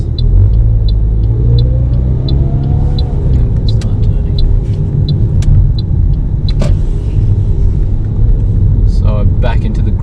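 A car passes on a road near a school zone during a driving test drive, a loud steady rumble under constant in-car engine noise, with faint repeating clicks of an indicator ticking throughout.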